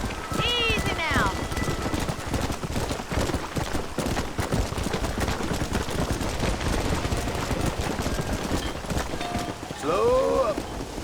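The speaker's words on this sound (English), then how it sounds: "We're not going to be able to hear each other in this rain." Steady heavy rain pours throughout with dull rumbling thunder in the video game Red Dead Redemption, and brief voice-like sounds rise over it near the start and end.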